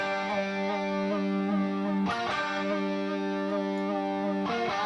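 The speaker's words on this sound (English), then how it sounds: "And I'm just going to grab the Celeste." Celesta layered with orchestral parts over a distorted prog rock chorus, its bright sustained chiming notes ringing steadily with a couple of louder struck accents, close and clear in the mix.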